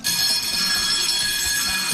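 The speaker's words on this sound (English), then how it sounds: "the alarm starts to sizzle" A passive infrared motion sensor alarm, triggered by body heat, blares a harsh, steady high-pitched tone continuously and loudly, with no break, over a faint low rumble.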